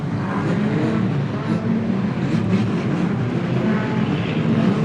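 Street stock race cars roar around Gympie Speedway in a dense, continuous engine drone, loud and sustained, with a public-address commentator talking over the noise.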